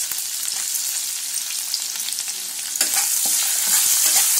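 Ginger and green chili frying in ghee give a continuous close hiss and crackle, with stirring scrapes throughout and a brief louder flare near the end.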